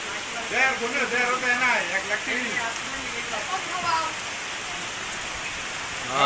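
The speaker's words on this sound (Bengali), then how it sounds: "থেমে থেমে বৃষ্টি হচ্ছে" Steady fine, intermittent rain hisses softly in the background while a person talks over it, the fine patter continuing evenly throughout.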